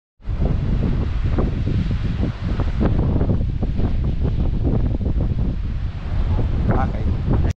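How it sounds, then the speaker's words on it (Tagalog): Strong wind buffets the microphone in a constant loud roar with gusty rumbling throughout at the Chamantad-Tinyan viewdeck in Sabtang, Batanes, nearly drowning everything else. "Lalo yung breeze ng hangin."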